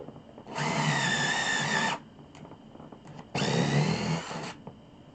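A power drill driving a screw into a squeaky floor whirs in two bursts of about a second and a half each, separated by a short pause with faint clicks, close by.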